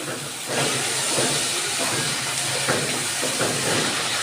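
Water poured into hot spiced masala of cumin, coriander and chili powder in a pan, giving a steady, loud steamy hiss and sizzle that rises sharply half a second in and holds throughout, with no talk.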